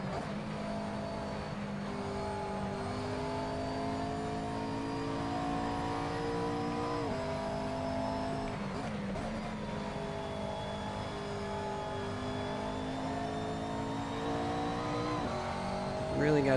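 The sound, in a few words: race car engine revving in a sim racing video game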